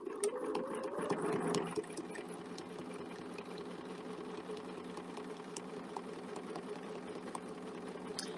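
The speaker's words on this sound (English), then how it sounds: "So I've lined everything up and it looks pretty good. And I'm just ready to start quilting." A sewing machine stitches quilting in a steady, close, mechanical hum, louder for the first two seconds and then settling into an even run with no talking.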